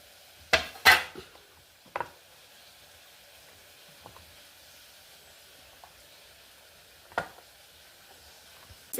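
Homemade green pea soap bars, made with natural coconut oil, knock and clatter as they are lifted out one at a time, giving a few sharp hard clicks spaced over a quiet room.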